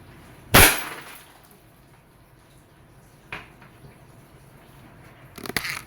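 A Wingun 708 airsoft revolver fires steel BBs in single action at a target two to three meters away: one sharp, loud crack, then a fainter pop, then a brief clatter near the end.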